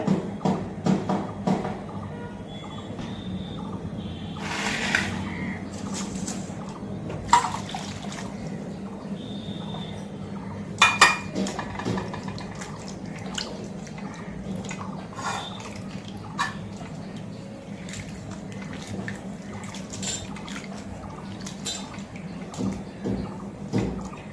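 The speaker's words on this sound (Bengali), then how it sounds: "শুটকি মাছটাকে ভালো করে ধুয়ে একটু জল বেশি করে দিতে হবে" Dried kachki fish is washed by hand in a pot of water, with sloshing, trickling and dripping, punctuated by occasional splashes and knocks against the pot.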